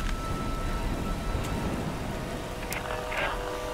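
Steady rain pours in the Tomb Raider Definitive Edition game on PS4, a dense, constant hiss with a few faint sharper accents, heard close and loud under a low voice.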